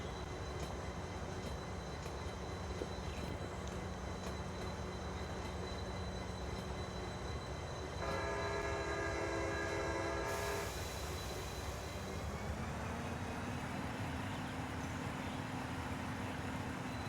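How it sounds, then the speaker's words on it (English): An express train to Vancouver in Train Sim Pro USA rumbles steadily, then sounds a loud multi-tone horn blast for about two seconds before a lower tone settles in as it rolls on. "There goes an express train to Vancouver."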